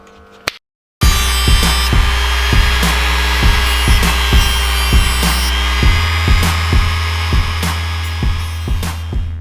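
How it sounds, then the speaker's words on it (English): A metal differential part for an M78 diff in a VR V6 Turbo Commodore spins on a lathe, giving a loud, steady machine hum with regular ticking knocks, after a brief gap near the start and with no talking. "So, alright, so back to the lathe."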